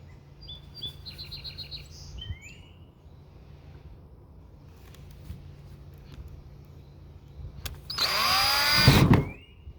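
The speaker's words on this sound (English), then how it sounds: "we'll start with drilling" A short burst of power drilling into a Nissan 240SX S14 plastic gas tank rises sharply near the end, loud and close, after quiet stretches with faint bird chirps and a low hum.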